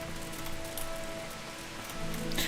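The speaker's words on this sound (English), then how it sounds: "And it's raining again." Steady rain falls in the Kingdom Come: Deliverance video game, a soft continuous patter with faint game tones beneath and a brighter splash of drops near the end.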